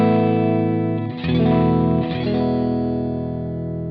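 An electric guitar through an Amplified Nation Dumble-style amp model on a Boss Katana Artist Gen 3, overdriven and warm: held chords restruck twice and ringing on, loud and close, with no voices.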